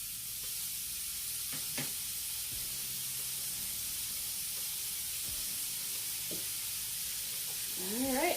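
A burger sizzles steadily in a Red Copper pan, a continuous frying hiss with a few soft clicks and scrapes, close and even in level, with a brief sharper sound at the end.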